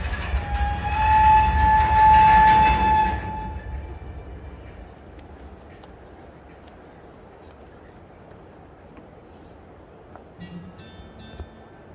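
A train passes as a railway coach goes by, with a loud rumble and a steady horn-like tone for about three seconds, then fading to a low distant hum with faint later clanks.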